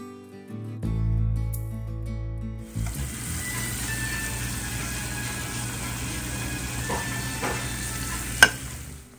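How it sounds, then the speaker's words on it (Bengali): Onion paste hits hot fish oil in a pan with a loud burst of sizzling, then settles into a steady, dense frying hiss with occasional stirring scrapes and one sharp clink near the end, with no talk. "সেই তেলেই আমি এখন পেঁয়াজ বাটা দিচ্ছি।"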